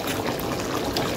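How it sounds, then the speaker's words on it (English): Water pouring and trickling into a pot of Jamaican curry cow foot, a short steady liquid splash close by with no voices. "I'm going to taste again and just add a little more water"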